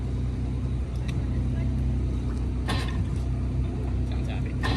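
A fast boat's motor runs steadily at a low, even drone, moderately distant, with occasional brief splashy bursts of wind or water over it.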